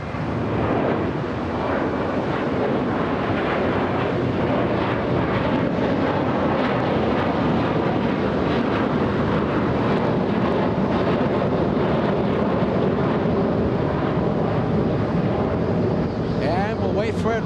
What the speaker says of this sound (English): Currently touching down on runway 24 left